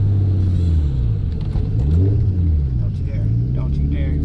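Nissan R32 Skyline GTS-t turbo engine pulling hard along back roads, a loud, close, steady rumbling drone whose pitch climbs and dips with the revs, heard from inside the car.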